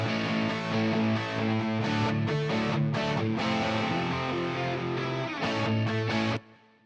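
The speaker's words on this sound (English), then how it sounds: "So that were the guitars and the bass part" Rock guitars and bass from a multitrack arrangement play together in a dense, sustained band passage without drums, with brief gaps and a final stop near the end.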